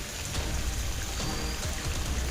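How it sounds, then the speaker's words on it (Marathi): Heavy unseasonal rain falls in Lanja taluka, Ratnagiri district, Maharashtra, making a steady, dense wash of noise that stays even and close for the whole stretch, with no voices. "या ठिकाणी तुम्ही पाहू शकता रत्नागिरीच्या लांजा तालुक्यात अवकाळी पावसाची दमदार हजेरी पाहायला मिळतेय"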